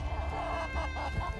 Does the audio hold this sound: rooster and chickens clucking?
yes